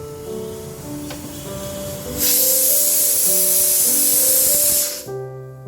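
Fennel seeds and crushed ginger drop into hot oil already tempered with bay leaf, panch phoron and asafoetida, bursting into a loud, close, steady sizzle that holds for about three seconds before cutting off, over a faint tonal hum.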